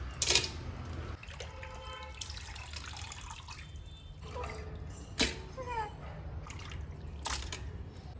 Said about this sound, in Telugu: దాన్ని తీసుకొని వాటర్లో బ్లడ్ పోయేంత వరకు 2-3 times బాగా వాష్ చేసుకోవాలి.